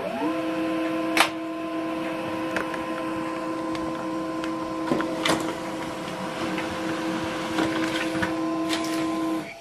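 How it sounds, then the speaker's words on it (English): An HP LaserJet 135w laser printer runs steadily through a print job, a continuous mechanical whir with a few sharp clicks and feed clunks, close and alone with no talking. "this document is right now printing out"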